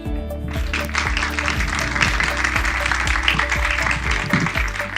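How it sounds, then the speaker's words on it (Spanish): Conference audience applauding to welcome a doctor to the stage for a healthy eating talk, a dense steady wash of clapping over a loud low hum, continuous for several seconds. "Recibamos con un fuerte aplauso a la doctora Kelly Houghton."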